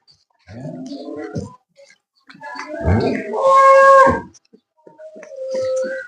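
A cow moos in a long, loud low call close by among cows for sale in a village in Tarn Taran district, Punjab, with a few shorter calls and faint voices around it.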